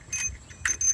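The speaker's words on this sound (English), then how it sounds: "So you might be wondering what's the noise. That's the bell, okay?" A small bell on a pedal-powered ferry rings in quick bright dings, a pair early and a cluster near the end, heard close and clear over faint low background rumble.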